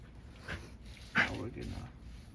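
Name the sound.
dog choking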